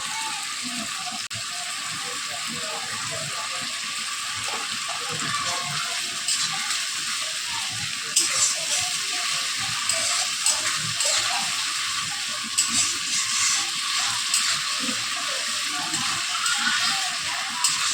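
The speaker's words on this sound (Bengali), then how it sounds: "মশলাটা ভাজা হয়ে গেছে, মশলাটা থেকে যে দেখুন তেল বেরিয়েছে।" Ginger-garlic paste and spices fry in oil in a pan for yogurt chicken, giving a steady close sizzle with occasional louder bursts of crackle and stirring.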